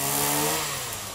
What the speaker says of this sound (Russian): Коммунальщики с целым набором разнокалиберных бензопил разделывают большой орех.